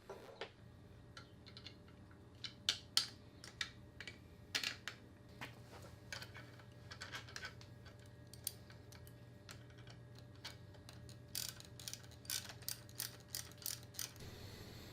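A nut and bolt being tightened to secure a 3D-printed mount onto a bike, heard as scattered ratcheting and tool clicks in short bursts, fairly close and quiet against a steady background hum, with no talking.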